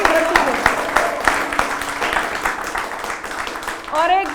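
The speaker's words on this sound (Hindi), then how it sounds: "जोरदार तालियां नरौरा की धरती को।" An audience at a Hindi poetry gathering breaks into loud clapping, a thick crackle of many hands. A presenter's amplified voice carries over the applause throughout.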